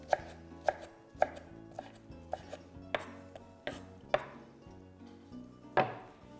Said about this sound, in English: you can also roughly chop just a little bit to make it really nice and fine